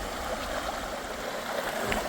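Wide river crossing on a hiking trail, with steady broadband rush of flowing stream water, continuous and fairly close, no voices.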